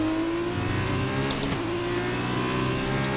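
An F2 2020 video game race car engine at full throttle, holding a loud, sustained high-pitched whine with a steady pitch and a brief whoosh mid-way, with no voices.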